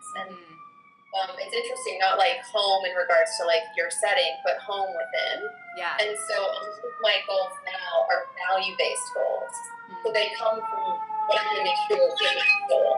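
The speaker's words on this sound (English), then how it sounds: "That's a siren going" A siren wails in the background, its tones slowly sliding, while two people talk over it throughout.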